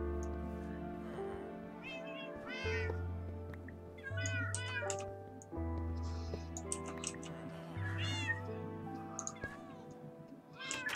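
Several cats meow repeatedly in a Minecraft-style modded game, short rising and falling mews scattered over about eleven seconds above a steady low in-game hum, fairly clear and close.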